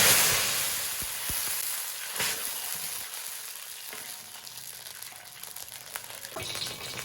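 Sugar caramelizing in a pan hisses and sizzles steadily after water is added, a loud bright spatter at first that settles into a continuous crackling fizz, with no voices.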